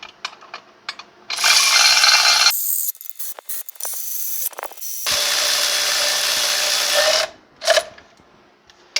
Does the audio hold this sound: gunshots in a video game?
no